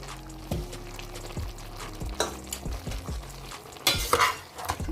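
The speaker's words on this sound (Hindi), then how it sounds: "अब हम इसको अच्छे से मिक्स करेंगे" A spoon stirs a mutton mixture with added spices in a cooking pot, giving repeated scraping and clanking strokes over a low sizzle, with a louder splash-like burst near the end.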